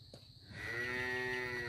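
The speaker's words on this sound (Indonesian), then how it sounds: "Di bawah situ ada kandang sapinya Mbak Nur tuh" Cattle in a cow shed close by give one long, loud moo that swells after a short pause and holds steady to the end, with no talking.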